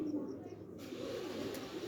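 Fancy pet pigeons being handled and shown off by a keeper give a low, soft cooing that runs steadily beneath a constant noisy background for under two seconds.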